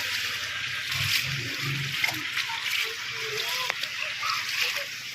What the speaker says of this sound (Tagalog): Naging ilog ang kalsada.